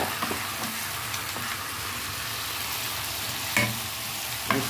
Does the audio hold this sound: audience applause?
no